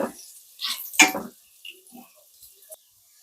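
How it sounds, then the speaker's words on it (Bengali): Potatoes being stirred with whole spices in a pan make a few brief scraping and clinking kitchen sounds, with faint speech in the background. "এই গোটা মশলার সঙ্গে এবার একটু আলুটা নাড়াচাড়া করব।"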